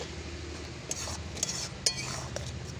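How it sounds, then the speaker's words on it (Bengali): A spicy small-crab curry stirred in a pan after garam masala goes in: a low steady sizzle under a few sharp clinks and scrapes of a spoon on metal, close and fairly quiet. "নেড়ে দিচ্ছি"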